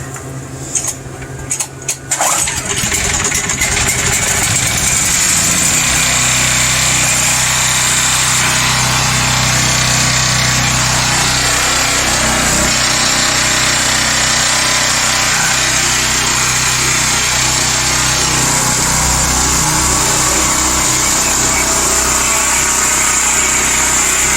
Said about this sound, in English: Okay, she runs, she's fixed.